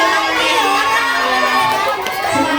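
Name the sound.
schoolchildren clapping and cheering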